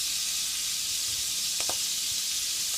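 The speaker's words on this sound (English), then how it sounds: "What I want to do is I just want to sear them on both sides." Farm-raised U15 shrimp searing in a hot pan give off a steady, even sizzle and hiss from close range, with a couple of faint clinks partway through and no talking.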